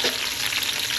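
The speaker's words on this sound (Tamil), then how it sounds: "கட் பண்ணி வச்ச வெங்காயத்தை சேர்த்துக்க போகிறோம்." Chopped onions hitting hot ghee with whole spices in a homemade mutton biryani pan, a loud, bright, continuous sizzle filling the whole second with no voices.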